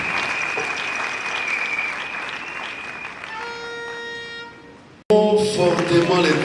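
Church congregation applauding during a wedding service, broad sustained clapping mixed with a held tone and a rising chord, then a sudden loud burst of clapping and music after a brief cut.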